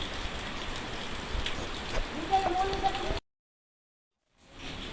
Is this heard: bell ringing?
no